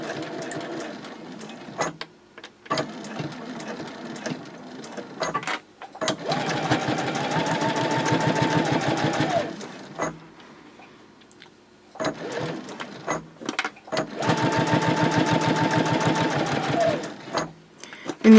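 A sewing machine stitches a panel onto a fabric sling in several steady bursts of rapid whirring, each lasting a few seconds, with brief pauses and small clicks between runs, close and clear.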